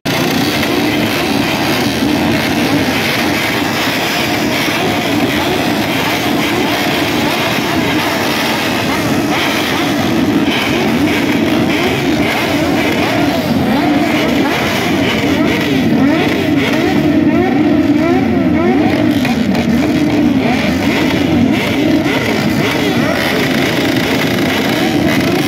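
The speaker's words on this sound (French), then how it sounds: "vous allez allumer vos moteurs" Loud, continuous engine rumble from several motorcycles starting and running together at a bikers' festival, pitch wavering as they rev up and settle, no pauses throughout.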